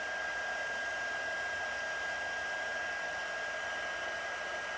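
A handheld heat tool, used for melting embossing powder on a stitched card, blows with a steady, close whirring hiss that holds unchanged throughout, with no speech.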